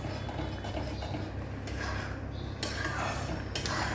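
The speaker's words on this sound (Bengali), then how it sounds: "ফ্রেশ ক্রিমটাকে দিয়ে আবার এটাকে আমি ভালো করে মিক্স করে নেবো" A spoon stirs and scrapes through veg lahori with ghee and fresh cream in a pan, making faint, scattered metallic clinks over a low background hum.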